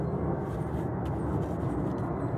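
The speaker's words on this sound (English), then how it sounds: "Apologies for the big plane going overhead," A broad, steady roar of a large airplane passing overhead, constant and moderately loud throughout, with no voices.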